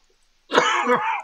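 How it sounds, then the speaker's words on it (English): A single short, harsh cough bursts out close to the microphone after near silence, lasting under a second. "going to try not to cough anymore"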